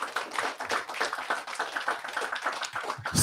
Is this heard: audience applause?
yes